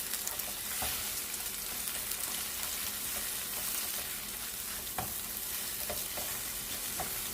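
Ghana egg fried rice fries in a pan with a loud, steady sizzle and hiss, and occasional stirring knocks stand out against it. The sound is close, with no voices.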